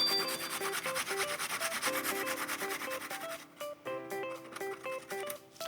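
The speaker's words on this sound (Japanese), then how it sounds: "まず生姜すりおろしですね。" Fresh ginger is rubbed against a grater in quick, steady strokes, close and fairly quiet, with short pauses between passes and no talking.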